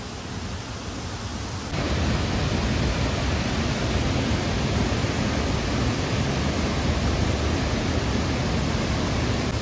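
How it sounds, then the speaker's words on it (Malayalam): Thommankuthu waterfall in the forest, running low after little rain, pours as a dense broadband roar that jumps up after a quieter opening second and then holds constant and close. "ഇതാണ് തൊമ്മംകുത്ത് വെള്ളച്ചാട്ടം"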